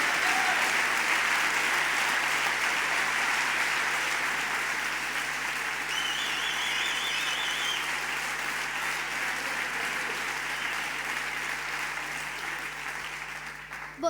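Sustained audience applause at a motivational conference for freelancers and small businesses, steady dense clapping filling the room for the whole stretch before slowly thinning near the end.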